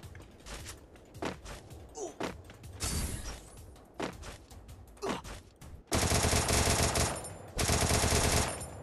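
An Evo Thompson submachine gun in a shooter game fires in short bursts of sharp rattling shots, then breaks into two longer, dense, sustained volleys of rapid automatic fire near the end.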